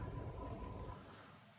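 Steady outdoor rain falls over a garden with a worm bin beneath the trees, heard as a continuous hiss with a heavier low rumble early on that softens after about a second.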